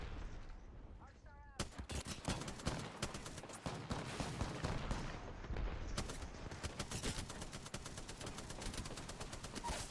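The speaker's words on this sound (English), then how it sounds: "I'm coming over to these guys that are firing on the side over here" Gunfire from enemies in Apex Legends, with dense, rapid automatic bursts crackling nearly nonstop after a short quiet opening and shots layered over one another, while a player talks in the background.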